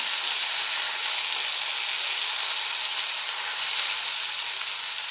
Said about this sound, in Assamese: তেলতে কাবুলী বুট আৰু আলুখিনি ভাজি ল'লোঁ